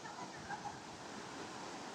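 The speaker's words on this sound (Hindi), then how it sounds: "ये देखो पानी कितनी तेजी से बह रहा है" Fast-flowing water rushes in a stream at Bhartadev park in Chhindwara, a steady broadband roar with no pauses, close to the microphone.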